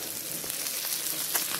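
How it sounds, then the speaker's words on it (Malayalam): Fish frying in a pan gives off a brief, steady hiss of crackling oil at moderate volume, with no voices. "നമ്മുടെ മീൻ വറുത്തത്"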